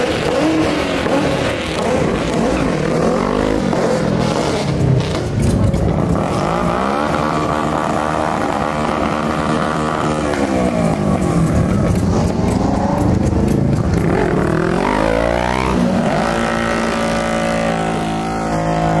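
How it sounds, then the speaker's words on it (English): A Mustang doing a burnout at a car meet, its engine roaring and revving hard in long rising and falling sweeps, loud and close, with continuous tire and exhaust noise throughout. "My boy's gonna give us a burnout."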